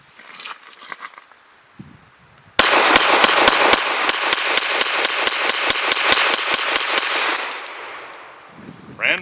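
Remington RP9 9mm pistol emptying a topped-off 18-round magazine outdoors, a rapid, steady string of loud sharp shots close by, starting abruptly after a few quiet handling sounds and ending with a final mechanical clack.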